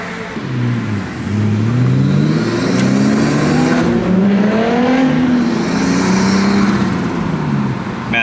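A Nissan R34 Skyline running with no exhaust fitted drones up close and continuously, its engine note rising and falling as the car pulls away and accelerates, with no voices.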